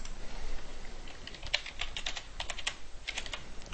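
Rapid keystrokes on a computer keyboard while entering text in Photoshop Elements, a steady close run of light clicks with irregular rhythm and no voices.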